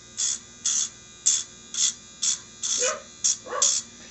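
Several small dogs bark in short sharp bursts, about eight quick yaps spaced evenly over a few seconds, close and fairly loud with no talk over them.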